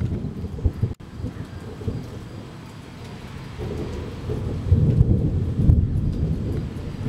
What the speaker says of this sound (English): The storm of the century approaches.